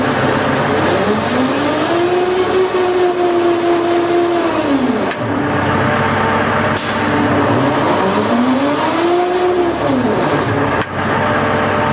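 A slickline skid winch running in high gear, with a loud continuous mechanical drone whose pitch rises, holds, then falls and rises again in cycles.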